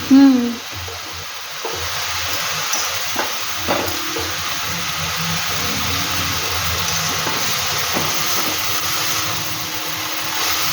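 Banana flower mixture with turmeric frying in a pan for mochar ghonto, a steady close sizzle with occasional scraping stirs, a voice speaking over it.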